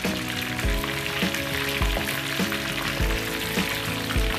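Batter-coated oysters deep-frying in hot oil produce a dense, steady sizzle and crackle, close and continuous, with a low rhythmic tonal hum and periodic soft thumps underneath, no voices.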